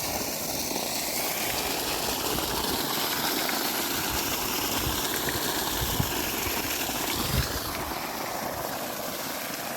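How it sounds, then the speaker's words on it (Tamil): A 5 HP, 2900 rpm solar-powered AC water pump motor runs at a well, giving a loud, steady whirring drone with rushing water noise and no pauses. "அஞ்சு ஹெச்பி மோட்டருங்க ரெண்டாயிரத்தி தொள்ளாயிரம் ஆர்பிஎம்"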